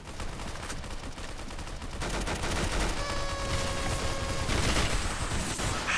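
Rapid automatic gunfire in a video game, a dense continuous fusillade of shots that grows louder and more intense midway, with no voices.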